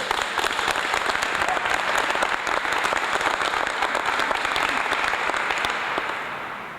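An audience applauds at a community police commission announcement, with dense, steady clapping throughout that begins to fade toward the end.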